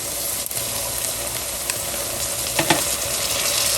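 Onions, jalapeno, garlic and canned Ortega chilies fry in a pan for tamale pie, a steady dense sizzle throughout with a few light stirring scrapes near the end, close and even, no voices.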